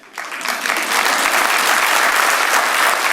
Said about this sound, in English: everybody give a round of applause for my Nana